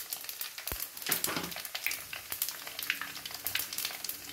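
Mustard seeds and cumin crackle and spit in hot oil, a dense sizzle broken by sharp popping bursts and the occasional clink of stirring, close and fairly quiet with no voices.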